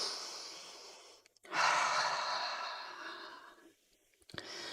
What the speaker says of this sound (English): the breathing throughout this practice is in through the nose and out through the mouth as you're shaking